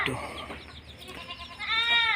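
A young goat bleats loudly and close near the end, a wavering high cry following some softer rustling and noise.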